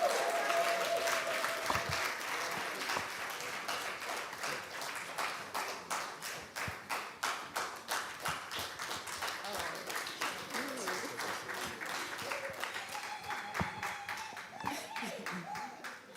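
Sustained applause from a summit audience welcoming a speaker to the stage, dense steady clapping that swells and continues for a long stretch with a crowd murmur beneath.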